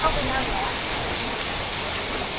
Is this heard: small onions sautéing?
no